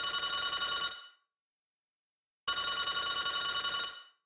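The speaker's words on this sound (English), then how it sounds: "Quackie found his phone ringing all the time." A telephone rings in two long electronic bursts separated by a pause of silence, loud and close.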